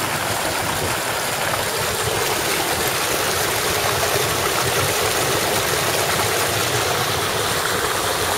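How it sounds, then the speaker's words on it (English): A steady, loud roar of rainwater pours on without pause, tumbling over two small waterfalls close by after 3.5 inches of rain in Elgin, Texas. "that water, you can hear it roaring from up from the house there."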